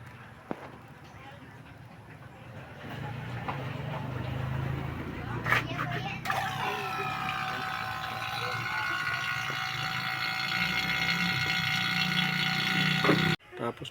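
A vacuum pump evacuates the air-conditioning system of a Suzuki DA64W/DA64V, starting partway through with a steady whirring motor hum that runs to the end and then cuts off, while people talk over it.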